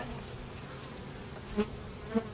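A dense, steady hum of many honeybees fills the space close by at an open hive, with a couple of brief louder buzzes as individual bees pass near.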